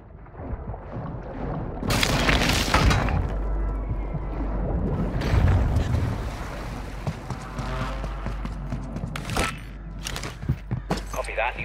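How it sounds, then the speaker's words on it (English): Precision airstrike explosions in a Call of Duty Warzone match, with loud broadband blasts and heavy low rumble rolling across the clip, a few sharp bursts near the end and radio chatter mixed in. "Enemy precision airstrike."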